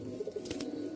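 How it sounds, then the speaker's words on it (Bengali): A pair of Rajshahi Giribaz pigeons coo softly nearby in a few low, rolling notes against a faint background hum. "এখানে দেখতে পাচ্ছেন একজোড়া কবুতর"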